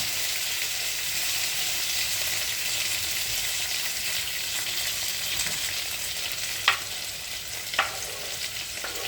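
Chopped tomato, green pepper, garlic and onion fry together in palm oil, a steady close hiss of sizzling with two sharp clicks of a utensil near the end, no talking.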